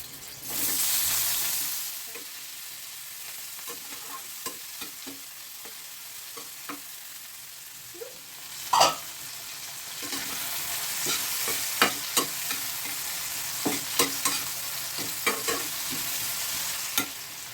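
Chopped onion and tomato fry in a pan of oil for an eggplant bharta, with a steady soft sizzle broken by scattered scrapes and stirring clicks, close and moderately quiet, no voices.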